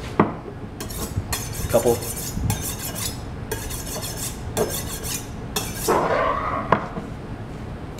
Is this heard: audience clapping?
no